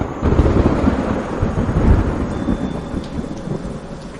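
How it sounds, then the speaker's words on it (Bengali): Deep, rolling thunder rumbles over steady rain, loud and sustained, swelling early then slowly fading into the hiss of the downpour. "বাইরে আবার বাজ পড়ার তীব্র একটা শব্দ হলো।"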